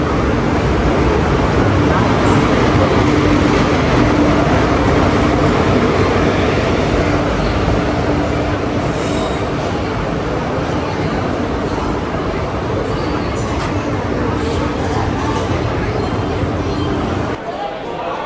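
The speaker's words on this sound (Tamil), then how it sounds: "ஸோ நம்ம ட்ராவல் பண்ணுற ட்ரெயின் வந்து பார்த்தீங்கன்னா ஆன் டைமில் வந்துச்சுங்க" The Thoothukudi Express rolls into platform 1 at Coimbatore Junction with a loud, continuous, close rumble and roar that holds steady before dropping off near the end, with voices mixed into the din.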